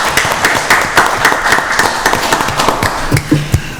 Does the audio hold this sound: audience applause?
yes